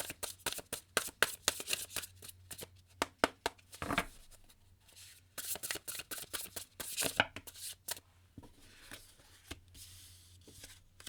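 Tarot cards are shuffled by hand in a rapid series of crisp riffles and slaps. The bursts come close and clear, separated by short pauses, with no voice over them.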